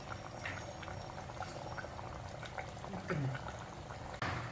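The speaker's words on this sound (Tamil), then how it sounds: "இப்போ கொதிக்க ஆரம்பிச்சிருச்சு" A pot of white vegetable kurma with cauliflower bubbles and simmers steadily at low volume, with soft gurgles and small pops over a constant background hiss.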